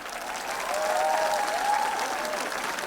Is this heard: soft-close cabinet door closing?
no